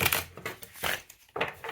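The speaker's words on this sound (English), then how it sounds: "split the deck and actually shuffle them, still riffle, but with the image up" A linen-finish tarot card deck being riffle shuffled gives short, crisp flurries of fluttering card slaps in quick bursts, close and fairly quiet.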